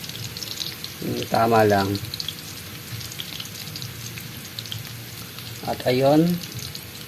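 Chopped vegetables for a Filipino ginisang gulay sizzle and fry steadily in a pan, a continuous crackling hiss throughout as someone speaks briefly twice over it.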